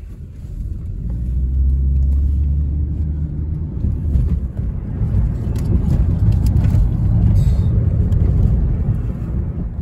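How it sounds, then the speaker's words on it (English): Taxi driving along a road toward the border crossing between Ontario and Buffalo, a steady deep engine and tire rumble heard from inside the cab, loud and continuous with no voices. "So I decide to get in a taxi."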